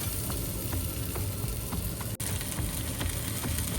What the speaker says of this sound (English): here I am sauteing some onions and garlic